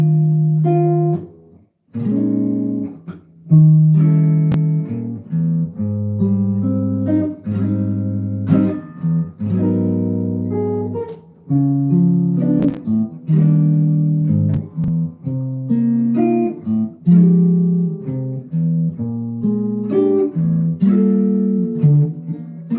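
A jazz ballad chord progression built on extended chords, played alone at an unhurried pace: sustained, rich harmonies shift every second or two, with gentle melodic notes moving over the top and no talking.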